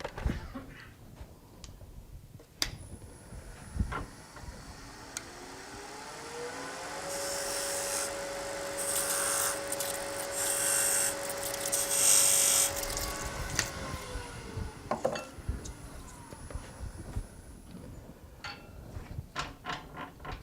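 Scraper cutting one side of a spinning piece on a wood lathe gives a rising whine and hiss that holds for several seconds before fading, framed by scattered knocks and scraping taps, with no talk.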